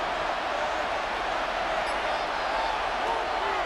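Steady roar of a stadium crowd in Madden NFL 26 during a Colts vs Texans game as third down approaches, a dense, continuous wash of noise with no breaks for the whole stretch.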